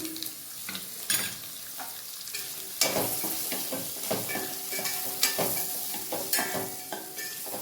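Eggs frying in a pan for egg fried rice, seasoned with coriander powder, chilli powder and salt, give a steady sizzle with repeated stirring scrapes, close and moderately loud, with no talking.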